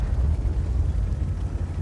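A tank blows up in World of Tanks, heard as a heavy, rumbling low-end roar that stays dense and churning through the short stretch, with no distinct sharp crack.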